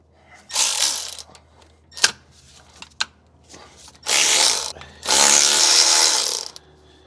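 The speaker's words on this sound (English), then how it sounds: "Let's take this gear off." Hand wrench and ratchet work on a gear of a Chevy C50 truck with a 4L80E transmission: bursts of clicking ratcheting, a few sharp metallic knocks, then two long, loud, steady ratchet runs close by, no talk.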